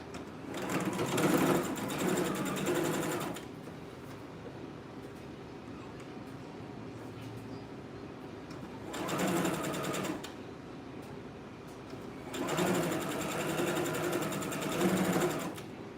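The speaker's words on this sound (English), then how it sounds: "I'm gonna be stitching this one now, half an inch in." A sewing machine stitches a seam half an inch in, running in three loud bursts of rapid mechanical whirring separated by quieter pauses, with no talk over it.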